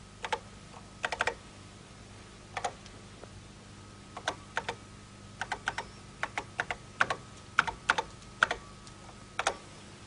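Typing on a 1983-era computer keyboard, close and fairly quiet: short bursts of crisp clicking keystrokes in irregular clusters over a soft background hum.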